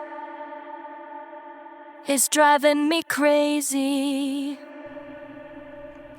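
Sung vocals processed through UJAM UFX-Reverb with added filter and finisher effects, a loud burst of heavily effected, echoing voice in the middle between quieter sustained harmonic tones.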